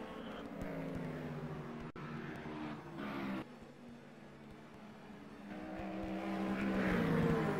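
GTE-class race car at the 24 Hours of Le Mans in 2014, a steady engine drone with rising revs toward the end, heard at moderate distance amid continuous track ambience.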